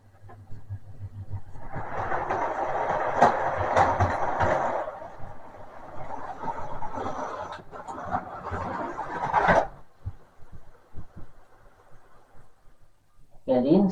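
An Intercity 43 model railway train runs along its track with a continuous mid-pitched mechanical whirr that holds for several seconds, then cuts off abruptly, leaving faint clicks and quiet.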